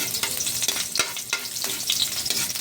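Garlic sautéing in a pan for a green bean and small shrimp stir-fry, a close, bright sizzle with repeated quick stirring scrapes every fraction of a second.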